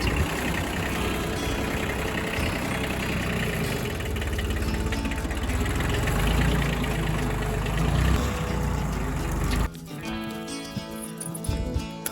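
A tractor engine idles nearby on a small Austrian homestead, a steady low rumble that stops abruptly near the end and leaves quieter outdoor background.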